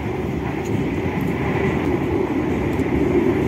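Economy-class train carriage rolling along the rails, a loud, steady rumble and hiss filling the interior with no break, louder than usual for the car type.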